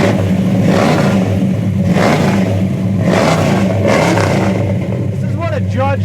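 A 1970 Pontiac GTO with Judge decals rumbles loudly and revs in dense, throaty bursts, close by, with voices talking over it.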